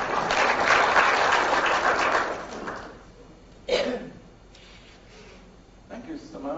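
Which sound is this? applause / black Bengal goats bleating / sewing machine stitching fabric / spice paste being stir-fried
applause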